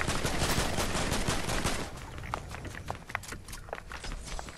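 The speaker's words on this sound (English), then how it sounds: "they're gonna shoot, they're shooting." Gunfire in the Fortnite video game, a dense burst of rapid shots at first, then scattered single cracks and thuds over a quieter background, with no talk.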